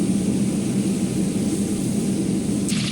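A helicopter lifts off in the naval combat game Sea Power, a loud, steady broadband engine and rotor roar that holds constant throughout, with no talking.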